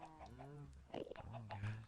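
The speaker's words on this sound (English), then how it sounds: "Come on up here, little chickens." Chickens cluck in a Minecraft survival game, short fowl calls mixed with a voice talking over them.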